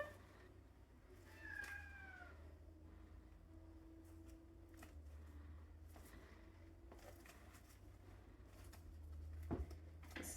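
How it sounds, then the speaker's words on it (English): A cat meows faintly a couple of times early on, short rising and falling cries against a quiet indoor background, followed by soft scattered household noises. "Meow, meow."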